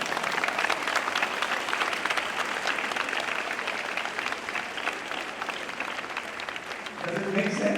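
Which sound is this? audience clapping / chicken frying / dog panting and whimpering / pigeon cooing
audience clapping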